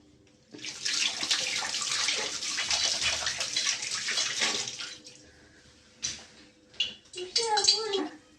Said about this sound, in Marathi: तेल चांगलं तापलेलं आहे बघा मी त्यात एक साबुदाणा असं टाकून बघितलं